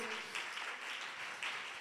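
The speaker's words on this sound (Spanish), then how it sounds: "Sígale dando ese aplauso al Señor." Church congregation applauding during a Spanish-language worship service, a steady wash of clapping sustained for the whole stretch at moderate distance with a few louder bursts.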